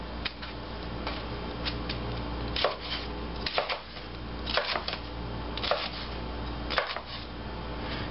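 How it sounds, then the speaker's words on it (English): Long, pointed green chilies cut up with a knife on a board, a series of close, crisp taps in uneven bursts over a low steady background hum, no talk. "So, let's cut each of our chilies up."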